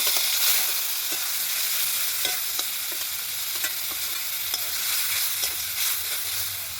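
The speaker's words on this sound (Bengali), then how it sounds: "এখন একটু কড়াইতে ভেজে নেবো তা দিয়ে দেবো একটু হিং হিং দিয়ে মশলাটা আমি একটু ভেজে নেবো" Pizza sauce spices fry with asafoetida in a kadai, a constant close sizzle broken by regular scraping stir strokes.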